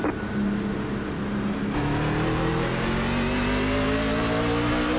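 NASCAR trucks in iRacing at Nashville accelerate off a green-flag start as a loud pack of engines roaring together, pitch climbing steadily as they rev up through the gears.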